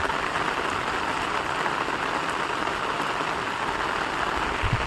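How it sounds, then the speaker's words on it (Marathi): Heavy monsoon rain in Konkan pours down in a steady, dense roar with no breaks, loud and close. "चला आता पाऊस जोरा दिलो हो."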